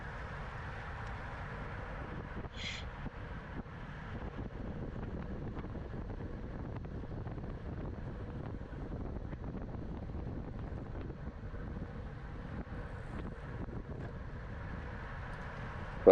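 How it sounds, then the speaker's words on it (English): Steady headwind roaring past a rider racing at the front of a 35+/40+ criterium bike race, a constant broad rush of wind across the microphone with no talk over it. "This is more the headwind, I guess."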